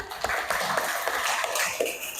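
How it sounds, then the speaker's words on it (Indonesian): Students in a vocational culinary class clap together, a dense, steady patter of hands filling the room for a couple of seconds with light shuffling beneath. "Tepuk tangan dulu semuanya"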